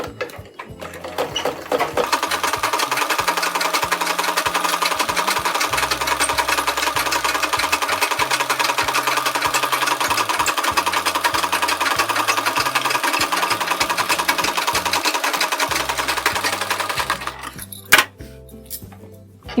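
A sewing machine stitches a model blouse sleeve. A loud, close, rapid mechanical whir runs steadily for most of the time, then stops, leaving a few clicks and knocks.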